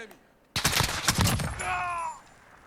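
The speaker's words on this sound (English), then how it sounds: "So again, this is the VKS Sniper Rifle." A single loud, close VKS sniper rifle shot in Call of Duty Modern Warfare: a sharp crack followed by a ringing, metallic tail that fades over about a second.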